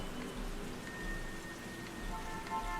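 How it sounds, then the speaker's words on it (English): Rain falls in the racing video game The Crew 2, a steady hiss of raindrops on surfaces with faint tonal game sounds underneath, moderately quiet and continuous. "Looks like you're racing in the rain today."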